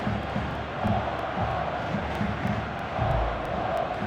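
Broad, roaring crowd noise fills a football stadium during a Fenerbahçe versus Adana Demirspor match, a continuous wash of many voices and applause from a distance, swelling slightly at moments.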